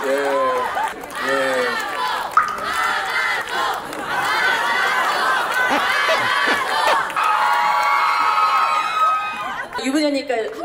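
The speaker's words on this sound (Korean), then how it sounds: "다시 한번 큰 박수 부탁드립니다" Wedding guests at a reception applaud and cheer with loud, sustained crowd noise and shouting throughout, while an emcee's voice is heard briefly near the end.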